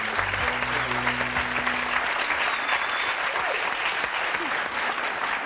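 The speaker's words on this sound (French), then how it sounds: "je vais vous demander de les applaudir très très fort" Loud, sustained studio audience applause for two guests on a French talk show, dense clapping filling the whole span, with a low tonal sound underneath near the start.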